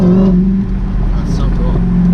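A 2017 Dodge Challenger Hellcat engine idles and revs with a low rumble, a faint fluttering whoosh rising briefly midway as the throttle changes.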